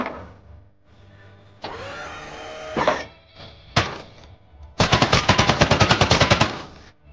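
Video game weapon firing watermelon bullets: a few bursts of noisy engine-like whirring, then a rapid, loud machine-gun rattle of about a dozen evenly spaced shots.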